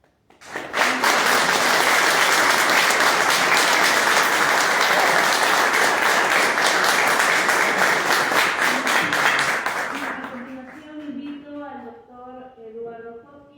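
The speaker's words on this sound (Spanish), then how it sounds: "Por los aplausos" Audience applause fills a hall at the Peruvian Academy of the Language induction ceremony, loud and sustained for about ten seconds before fading as a voice begins speaking.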